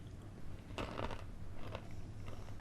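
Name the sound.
biting crunchy roasted chickpeas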